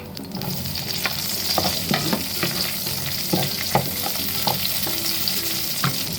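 Onion leek and garlic stir-fried in a hot pan give a steady loud sizzle, broken by repeated scraping and clacking strokes from a spatula at an uneven pace, close up with no voices.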